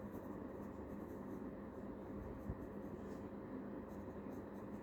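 Pen or marker writing out the Wurtz reaction during an organic chemistry lesson, faint scratching strokes under a steady, low room hum, with no talk.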